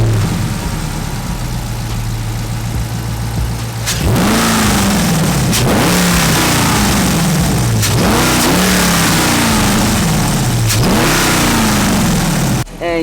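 A 2019 Dodge Charger Scat Pack with its stock intake idles, then revs hard four times in a regular rhythm, each blip rising sharply and falling back, loud and close.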